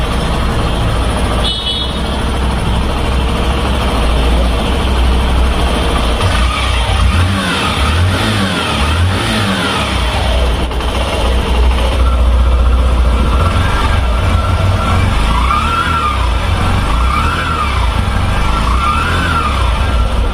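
A motorcycle engine revs up and down repeatedly, its throaty exhaust note rising and falling loudly and close for a sustained stretch.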